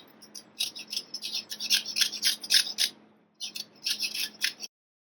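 Quick scratchy rasping strokes as orange zest is grated for an orange and rosemary cake, close and clear in short bursts with a brief pause before a final run.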